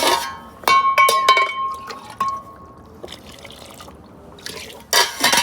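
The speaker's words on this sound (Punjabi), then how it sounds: "ਤੇ ਆਪਾਂ ਨਾ ਹੁਣ ਇਹਦੇ ਵਿੱਚ ਥੋੜਾ ਜਿਹਾ ਪਾ ਦਨੇ ਗਰਮ ਪਾਣੀ" Hot water poured into a pot of sarson da saag (mustard greens) with a liquid fill sound and clinks of glass or utensils, then a second burst of pouring near the end, heard alone.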